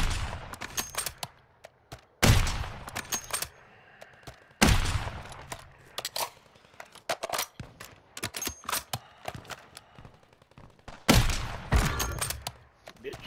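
Gunfire in the battle royale video game Call of Duty Warzone, with loud bursts of rapid automatic shots and single cracks, separated by quieter stretches holding footsteps and scattered impacts.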